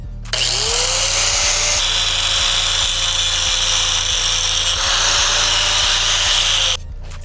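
A power tool trims an aluminum part on a supercharged Mazda 3 so it clears the supercharger pulley, making a loud, close, continuous high grinding whine with a slight pitch shift that holds for about six seconds before cutting off.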